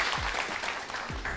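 An audience at a prize-draw event applauds for a lot of 100,000, with steady dense clapping throughout.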